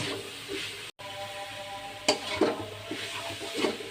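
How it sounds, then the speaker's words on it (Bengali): Sweet dudh puli filling is stirred in a pan, with soft, steady sizzling and a few light scraping strokes of the spoon, close and fairly quiet. "আর একটু নাড়াচাড়া করে আমি নামিয়ে নেব"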